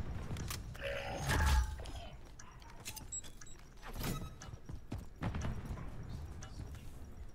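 Horse hooves clip-clopping in Call of Duty MW3, a few close, irregular hoof strikes mixed with creaks and game noise, with no talking.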